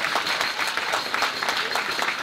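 An audience applauds warmly at a cancer-related gathering, a dense, steady wash of clapping from a crowd, loud and close, with no talking over it.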